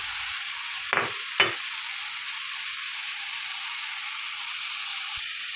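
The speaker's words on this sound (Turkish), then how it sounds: "pembeleşene kadar karıştırıyorum" Onions fry in a pan with a steady, even sizzle throughout, broken by two brief scraping stirs early on, with no talking.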